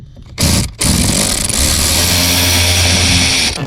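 A power tool whirs loudly and steadily while bolts are removed from the blower motor of a Honda Ridgeline, starting with a short burst, a brief pause, then a continuous close, loud whine lasting several seconds.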